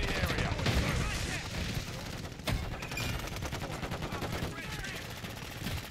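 JAK Lance gun fire in a video game, bursts of sharp rapid shots crackling over a busy, noisy background, fairly loud with one stronger crack near the middle.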